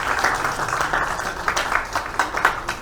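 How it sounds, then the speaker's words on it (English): An audience at a hybrid book launch event gives a short round of applause for interpreters and volunteers, scattered clapping with a few sharper claps standing out, somewhat muted. "Can we have a round of applause for our interpreters and volunteers"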